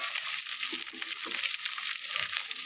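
Sliced onions frying in oil in a pan for Andhra-style sambar, a loud continuous close sizzle with soft stirring scrapes running throughout.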